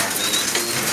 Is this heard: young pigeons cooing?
yes